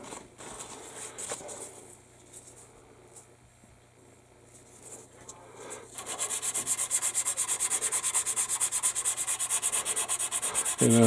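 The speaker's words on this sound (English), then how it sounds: "sanding right where the seam line is, letting the sander do the work." Light scratchy rubbing at first, then a steady rhythmic sanding rasp along the seam of a 1/72 plastic B-17G model kit that grows louder and continues close up without talk.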